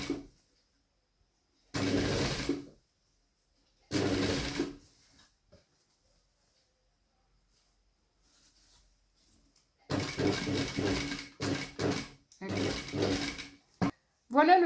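Sewing machine stitching both sides of a fabric study piece, running in several short bursts of a few seconds each with pauses between, then a longer stretch of repeated stitching runs near the end.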